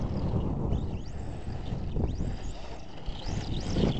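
Heavy wind buffets the microphone outdoors during a run of an ARRMA Senton 4x4 Mega brushless RC truck, a steady low roar with gusty swells throughout, and a faint whine rising and falling in the background.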